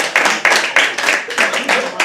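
A comedy show audience claps in short bursts, roughly five or six irregular rounds of applause, close and lively in a small venue.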